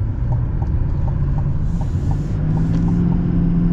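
A 2024 Chevy Silverado ZR2 Bison HD truck on big off-road tires drives along, its engine giving a steady low rumble from inside the cab, growing slightly louder toward the end.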